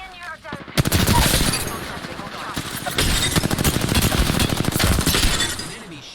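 Rapid automatic gunfire and weapon blasts in the battle royale game Apex Legends, loud and dense, with bursts and impacts running almost continuously.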